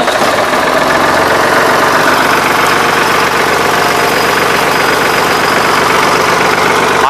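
A 1983 Ford 3910 tractor's diesel engine idles and runs steadily up close, a loud continuous rumble with a fast knocking beat throughout, no talk.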